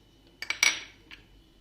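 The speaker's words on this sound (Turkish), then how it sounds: "Harcımızı bu şekilde karıştırıyoruz." Spoon scraping and clinking against a bowl while stirring a spiced zucchini filling with chili flakes, dried mint and salt, a few quick sharp metallic clinks, close and alone.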